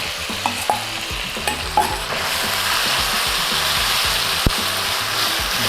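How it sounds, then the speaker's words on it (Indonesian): Beef stir-fries in a hot wok with a loud, continuous sizzle, preceded by a few metallic clanks of a utensil against the pan, heard close up without speech. "Yang pertama kita tumis Dagingnya. dagingnya langsung kita tumis. Ini pakai wok, Ini harus panas."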